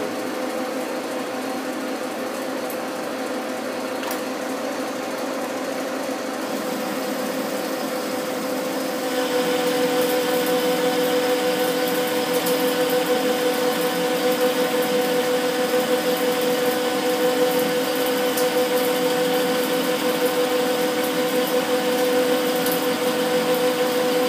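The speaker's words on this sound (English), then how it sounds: "we'll go for the scenario where we have to turn this entire length without taking it out the machine" A metal lathe turns a long workpiece along its entire length, giving a steady, loud mechanical whine with a sustained tonal hum that grows slightly louder partway through and runs continuously with no talk.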